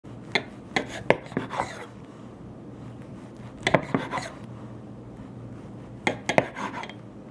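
A knife slices through rolled-up pizza roll dough in three clusters of soft cuts, each ending in a light tap against the board, close and fairly quiet with no talking.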